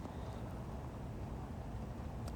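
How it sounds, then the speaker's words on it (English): Steady rain falls outside, a continuous soft broadband hiss and patter heard from indoors, even and fairly quiet throughout with no voices. "So it's just rain noises as you can hear outside."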